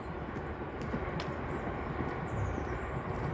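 A train passing some distance ahead in open countryside, a faint, steady low rumble that holds throughout under light outdoor noise.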